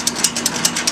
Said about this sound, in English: Ratchet tight.